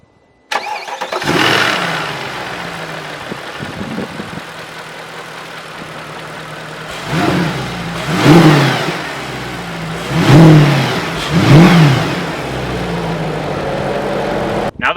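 A 2012 Mercedes C63 AMG with its hand-built 6.2-liter V8 cranks and catches, settles into a rumbling idle, then gets three sharp, loud revs in a row, each rising and falling back, with no one talking.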